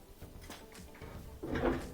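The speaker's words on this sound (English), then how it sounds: "Close that door." The door of an LG gas dryer being shut, a few small handling knocks followed by one firmer, muffled thud up close, with no talk.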